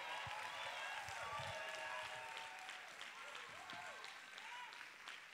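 Concert audience applauds a band, distant steady clapping with a brass-like tonal hum and faint voices underneath, fairly quiet throughout.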